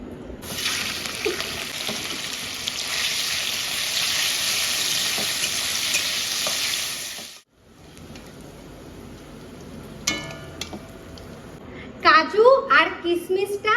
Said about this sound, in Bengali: এবার আমি চিকেনটা ভেজে নেবো